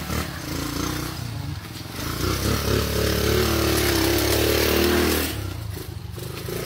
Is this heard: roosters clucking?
no